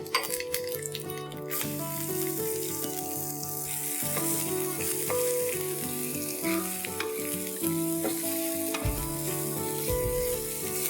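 Steady hot-oil sizzling and crackling from a pan as garlic fries for Lucknowi dal, loud and close, continuing throughout with light clinks of stirring.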